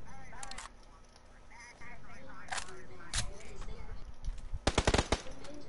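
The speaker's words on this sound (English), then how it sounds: "I'm getting fucking shot at." PUBG battle-royale gunfire: sharp bursts of automatic shots crack out near the end, after scattered single reports, with game ambience and voices underneath.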